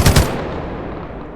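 A machine gun firing .308 rounds in the Timeless and Classics Minecraft gun mod: a loud, close burst of two or three rapid shots at the start, then a long decaying echo tail with no voices.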